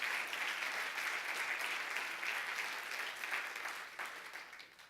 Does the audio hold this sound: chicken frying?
no